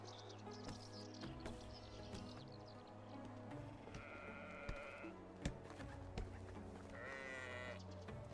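Sheep bleat several times in the medieval survival game Medieval Dynasty, quavering calls that stand out over a soft background of game ambience and faint birdsong, fairly quiet overall.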